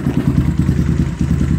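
An SSR 189 dirt bike engine, still cold, gets a light rev, giving a close, loud, rapidly pulsing thump with a brief dip midway.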